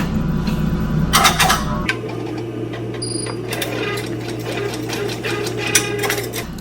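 An SWF 12-needle embroidery machine stitching a design onto a hooped hat, with a steady mechanical hum and rapid needle clatter, close and continuous, its pitch shifting partway through.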